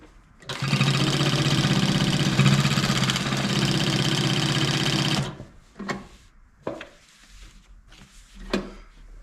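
Consew 1206B industrial sewing machine stitching four thicknesses at high speed, about 2,400 stitches a minute: a loud, steady mechanical whir running for several seconds, then stopping, followed by a few faint scattered clicks and handling noises.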